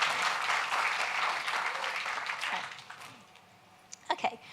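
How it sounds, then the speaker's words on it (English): Brief scattered clapping from an audience at a tech talk on Apple machine learning, fairly quiet and thin, fading out, followed by a few isolated sharp claps near the end. "That's supposed to be a clap."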